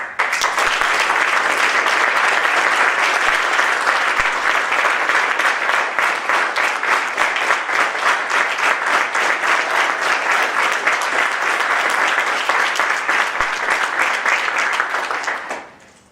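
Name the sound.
audience applause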